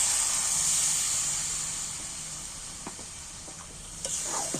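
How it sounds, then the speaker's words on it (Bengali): Rinse water from a mixer jar pours into a hot pan of spiced chicken curry and sizzles loudly in a steady hiss that slowly fades, with a few faint spoon scrapes near the end. "এইবার আমি মিক্সারের জারটা ধোয়া জল একটু সাইড দিয়ে দিচ্ছি।"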